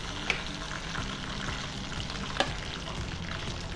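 Prawns frying in butter and garlic on a tawa give a steady close sizzle and crackle, with a couple of sharp clinks of a utensil against the pan.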